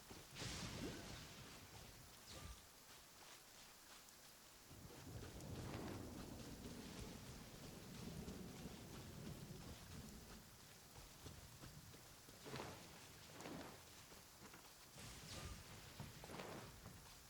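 Thunderstorm with rain in the Genshin Impact video game: steady hissing rainfall throughout, broken by several sharp cracks of thunder and a rolling low rumble, with no speech.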